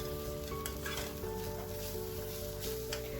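Garlic sizzles steadily in hot oil in a pan as it is stirred, with faint scraping from the spoon, close and continuous, while a Malabar-style chicken curry is being prepared.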